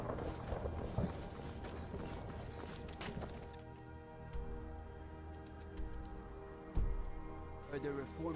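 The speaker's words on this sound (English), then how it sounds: "And here's my horse." A horse's hooves clip-clop at a steady walking pace in the Skyrim video game, moderately quiet beneath game ambience and faint voices.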